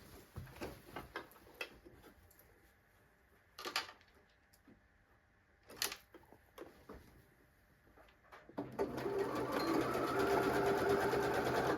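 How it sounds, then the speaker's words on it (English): A domestic sewing machine stitching the lining seam of a zippy fabric pouch, short whirring runs with pauses and clicks, then a longer steady buzzing stitch toward the end, close and fairly quiet. "So I'm going to give that one another sew."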